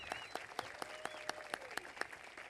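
A small audience claps steadily, with sharp, evenly spaced claps standing out over a softer bed of applause.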